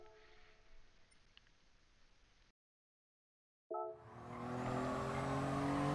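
Racing car lapping Sardegna Track B in a video game: a low hum, a sudden gap of silence, then the engine roars back in with rising revs and a sustained loud drone.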